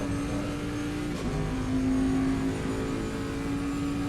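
Race cars in a sim racing game at Laguna Seca, a Nissan chasing a Mustang, produce a loud, steady engine drone with a brief shift in pitch partway through, heard without talk.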